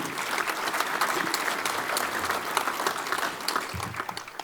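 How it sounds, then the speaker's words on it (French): Sustained audience applause at the Légumes de France 2023 congress, a steady dense wash of clapping from a large hall crowd, moderately loud throughout. "on peut les applaudir, s'il vous plaît"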